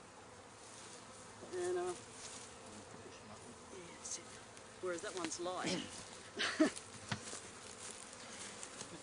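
Bees buzz around an opened Langstroth hive while full honey frames are harvested, a steady faint insect drone running throughout beneath relaxed nearby speech, with a few louder handling knocks.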